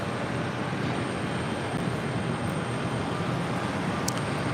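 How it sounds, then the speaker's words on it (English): A Royal Jordanian Boeing 787-8 Dreamliner on approach to runway 4 left at JFK, arriving from Amman, gives a steady, continuous broadband engine roar, fairly close and unbroken throughout, with no talk over it. "Royal Jordanian Flight 261 coming in from Amman on a 787-8 Dreamliner"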